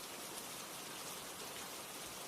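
Rain falls as a soft, even hiss of countless drops, faint and unbroken throughout with no voices.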